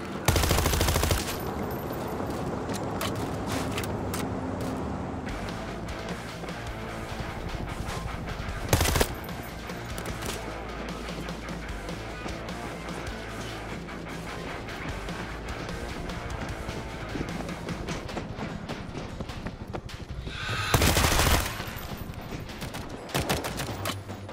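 Heavy machine-gun fire in the zombie shooter World War Z: Aftermath, sustained rapid automatic bursts dense and loud throughout, punctuated by two big booming blasts, no voices over it.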